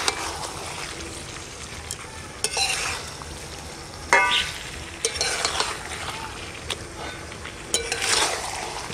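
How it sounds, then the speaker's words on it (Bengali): Chicken sautéed in a pan for a mango, coriander and mustard curry, a steady sizzle broken by several sharp bursts of stirring and spoon scrapes against the pan at irregular intervals. "মাংসটা আমি খুব ভালো করে কষিয়ে নিয়েছি"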